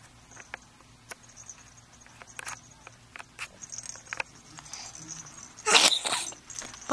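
A baby on a playmat sneezes once, a sharp loud burst near the end, after quiet scattered rustling and small clicks nearby.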